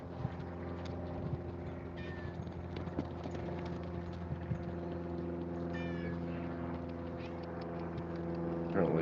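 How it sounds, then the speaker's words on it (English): Two house cats meow in protest at not being fed, a few brief cries rising over a steady low mechanical hum and faint background clatter at a horse rescue barn. "Apparently, I forgot to feed the cats today because both Luna and Jack are here protesting"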